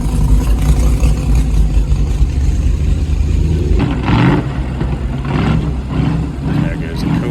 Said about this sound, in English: There goes a Cobra up the street.